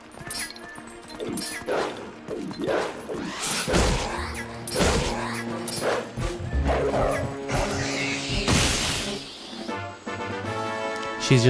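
Dog barking and yipping in The Legend of Zelda: Twilight Princess on GameCube, several sharp barks and whimpers mixed with game music and effects, fairly loud throughout.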